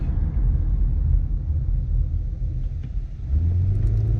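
A car's steady low road rumble fills the clip at about 30 mph while breaking in new brakes and rotors, with engine tone shifting near the end as the car slows.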